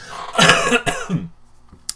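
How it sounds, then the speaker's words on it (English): A single loud, harsh cough with a couple of raspy bursts, close up, fading into quiet with a faint click at the end. "Excuse me one second while I cough."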